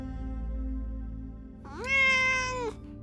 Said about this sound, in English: Oh, it's just a cat.